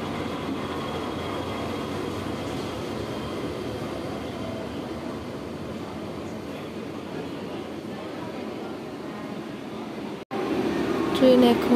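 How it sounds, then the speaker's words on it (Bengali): Mumbai Mail train arriving at a station, a steady low rumble and hum holding throughout with a brief dropout near the end followed by a louder surge of noise. "তো এখন ফাইনালি চলে এসেছে ট্রেন।"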